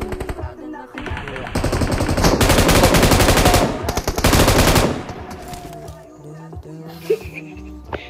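Rapid bursts of automatic gunfire crackle loudly in long volleys, game-style, then taper into scattered shots and clanks with voices in the background.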